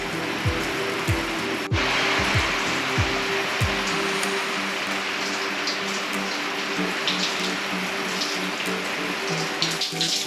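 Water from an indoor shower at a riverside caravan park runs in a steady, loud rush, with a few knocking, ratcheting clunks near the start as the tap or fittings turn.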